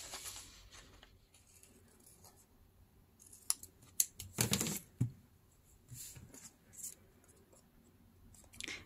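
Scissors snip through washi tape labels at a craft table, a cluster of sharp cuts in the middle with scattered quieter snips and paper handling around them.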